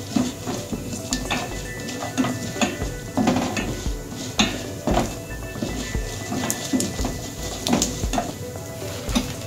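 Mustard seeds and lentils sizzle steadily in oil in a pan while a spoon stirs and scrapes against metal, with occasional clinks of utensils close by.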